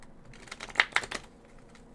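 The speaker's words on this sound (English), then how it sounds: "I really can't talk and shuffle these at the same time, because like they really do go everywhere" A deck of tarot-style cards is shuffled in a quick burst of crisp riffling clicks and flutters lasting about half a second, quiet and close, with no talking.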